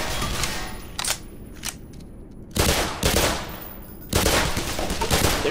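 Enemy machine gun fire in the video game Black Mesa: two short single cracks, then two long, loud bursts of rapid automatic fire close by, separated by a brief lull.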